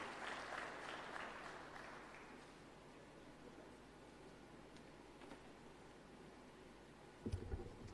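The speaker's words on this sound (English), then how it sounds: "Let's clap for him." Audience applause at an anniversary ceremony for a higher education students' loans board, fairly faint and fading out after the first couple of seconds into a quiet room hiss, with a brief knock near the end.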